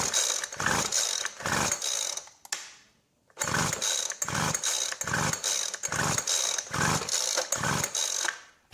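An old weed whacker's small two-stroke engine is cranked repeatedly, giving loud, close, rhythmic pull-start bursts with one brief pause, though it never settles into a steady idle.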